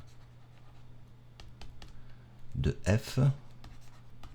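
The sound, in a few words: writing a math formula by hand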